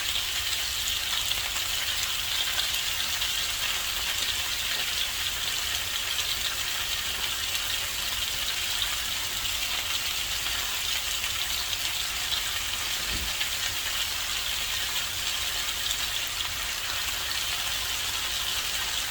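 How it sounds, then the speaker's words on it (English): Beef searing in a hot pan for sauerbraten, a steady dense sizzle and crackle that holds evenly throughout, close and unbroken, with no voices. "you want to let it sear where you get a good coating on it"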